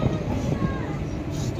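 Steady loud rumble and rattle inside a moving passenger train, a continuous low roar without pauses.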